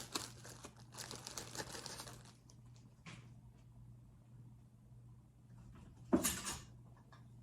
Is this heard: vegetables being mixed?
yes